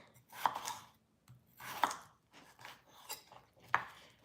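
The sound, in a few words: slicing potatoes with a knife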